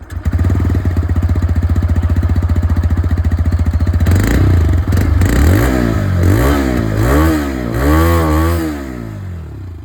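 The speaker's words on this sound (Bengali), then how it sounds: "এই যে এক্সস্ট সাউন্ড সেটাও আমি আপনাদেরকে এখন একবার শুনিয়ে দিই" A TVS Raider 125 motorcycle with a 3-valve engine idles with a steady, close exhaust pulse, then is revved in a series of rising and falling blips, loud and alone.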